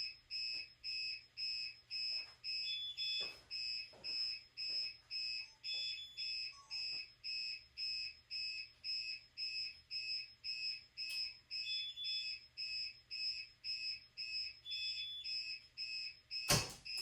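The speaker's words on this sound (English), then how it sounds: "I'm now going to reset this fire alarm system because I've now got things going crazy in the house." A household fire alarm system sounds during a power loss, a loud, steady electronic tone pulsing in a regular rhythm for the whole stretch, with a few faint knocks in the background and a sharp click near the end.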